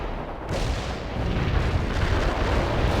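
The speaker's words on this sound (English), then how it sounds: "The enemy in the strike zone. Artillery strike on the way." Artillery strike in the World in Conflict game comes as a dense, continuous roar of heavy blasts and rumbling booms, loud and sustained without pause.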